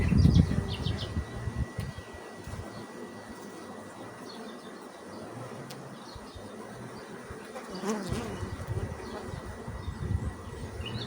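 Honey bees buzz at an open beehive during a colony inspection, a steady close drone of many insects with a few louder passes and faint handling noises.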